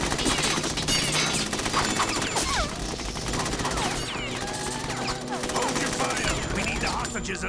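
Gunfire in the video game Metal Gear Solid 2: Sons of Liberty, dense continuous bursts of automatic fire and crashing impacts filling the whole stretch, loud and close, with game voices mixed in.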